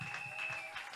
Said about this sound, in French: Acclame bien. Acclame encore mieux.